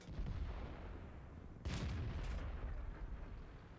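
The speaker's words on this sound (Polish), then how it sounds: "Strzał na ślepo w ISU takie dość ryzykowne." A blind tank gun shot fired at an ISU tank destroyer in World of Tanks, heard as one loud, sharp cannon boom followed by a rumbling tail over steady engine noise.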